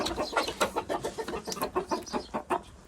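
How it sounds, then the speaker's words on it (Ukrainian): Ameraucana hens and other chickens in a backyard flock cluck close by in quick, repeated bursts. Soft murmuring clucks follow an uneven rhythm, and no voices are heard. "Як мені подобаються ці сіренькі курочки"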